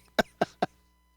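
Three short, sharp coughs in quick succession, close to the microphone, followed by quiet.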